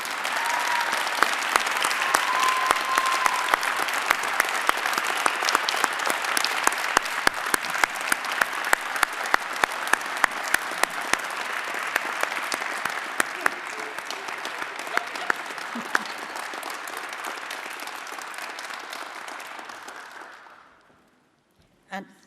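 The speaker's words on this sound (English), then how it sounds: "Let's give them one big round of applause." Sustained audience applause fills a police department promotion ceremony in Newport News, dense clapping from a large crowd lasting about twenty seconds before fading out to a last stray clap.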